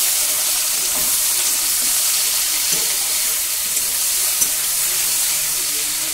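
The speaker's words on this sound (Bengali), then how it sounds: "ভালোভাবে ভেজে নেব কচুর লতিগুলো।" Boiled taro stolons frying in hot oil with nigella seeds in a pan, a steady loud broadband sizzle with faint scraping stirs, no voices over it.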